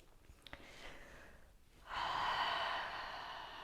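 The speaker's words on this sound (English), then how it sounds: "you're just gonna take a moment to give yourself a nice big exhale" A person lying on their back lets out a big exhale: a short sniff, then a long, soft, breathy release of air close to the microphone.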